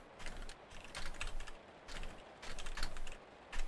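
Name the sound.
loud typing on a computer keyboard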